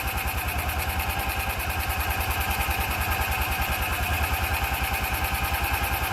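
A freshly rebuilt small engine idles steadily and close by, with a fast, even pulsing chug and mechanical clatter throughout and no voices.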